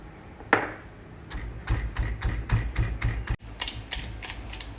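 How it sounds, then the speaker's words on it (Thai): Chillies pounded into shrimp paste and garlic in a mortar and pestle, a series of dull rhythmic thuds and knocks, close and moderately loud, without talk. "เราก็ เอาพริกค่ะ ลงไปตำรวมนะคะ"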